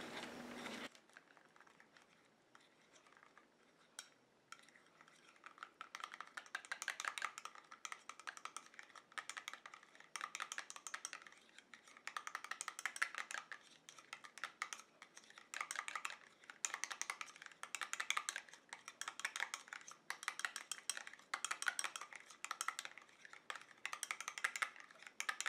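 Ingredients for a tinted sunscreen BB cream are stirred in a small container, making faint, quick, rhythmic ticking and scraping strokes that run in repeated bursts over a very quiet background.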